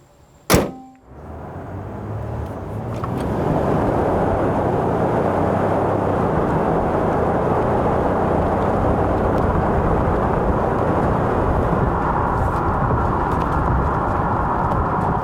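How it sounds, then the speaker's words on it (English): A 2020 Kia Mohave SUV with a 3-liter V6 diesel, 8-speed automatic and all-wheel drive accelerates hard: a sharp clunk at the start, then a steady, loud, building engine and road roar that continues for over ten seconds. "It took Mohave about 8 seconds to hit 62 miles per hour."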